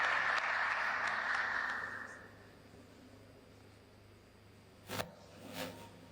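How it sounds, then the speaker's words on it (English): A forum audience at a discussion of the Benue massacre applauds. The hall is filled with a broad wash of clapping that fades away after about two seconds, leaving quiet room tone and a couple of soft knocks. "A big round of applause for our daddy."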